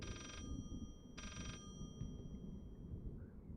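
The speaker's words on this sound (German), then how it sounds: "Irgendwo klingelt der Telefon." Two bursts of an old-style telephone bell ringing in the horror game Layers of Fear, a metallic trill repeated with a pause between, somewhat distant over a low rumbling ambient drone.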